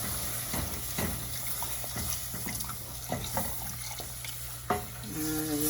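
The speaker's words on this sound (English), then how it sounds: "Now we're going to start to stir in the stock." Stock being stirred into flour-coated vegetables in a pot: soft liquid sloshing and scraping strokes repeat at an irregular rhythm over a constant low hum, close and fairly quiet.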